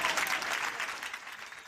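A town hall crowd in Roswell, Georgia breaks into loud, dense applause that swells at first, then eases slightly over a couple of seconds.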